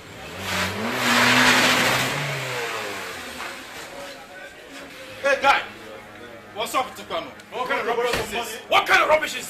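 A car engine starts and revs up loudly, a rising mechanical roar that swells early on before dropping back to a steady idle, with voices and sharp knocks breaking in over the later part.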